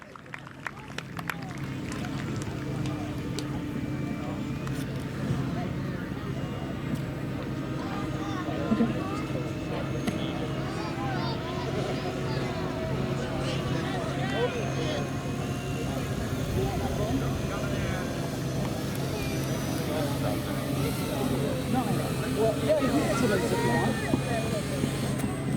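Model aircraft at the Flite Fest flying field, a steady electric motor drone and buzz sustained throughout as a plane comes in to land, with crowd chatter and voices running underneath.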